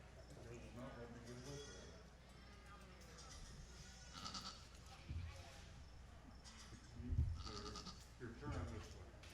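Pygmy goats at a junior fair goat show let out several bleats, some near and loud, over a busy background of announcements and chatter.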